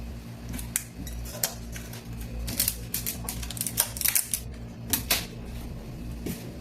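Dry ingredients for a honey cake, including clove, ground cinnamon and baking soda, being stirred in a bowl: rapid, light clinking and scraping of a utensil against the bowl in irregular bursts, fairly close and moderately quiet.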